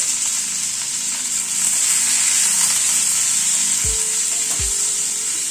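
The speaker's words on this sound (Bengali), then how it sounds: "নুন হলুদ দিয়ে আলু কুমড়োটাকে আর একটু ফ্রাই করে নেব।" Potato and pumpkin pieces fry with salt and turmeric over a medium gas flame, producing a loud, dense, even sizzle close by, with a couple of short clunks from the pan late on.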